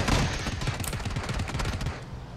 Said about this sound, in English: I'm shooting at them, too.